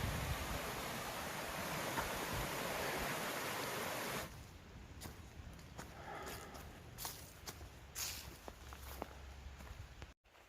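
Steady broadband rush of a mountain stream flowing beside a trail on the Appalachian Trail approach near Springer Mountain, loud and close at first, then softer and more distant behind scattered footsteps and small crunches.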